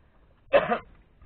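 One short, harsh cough, close and fairly loud, lasting under half a second, with quiet room noise around it.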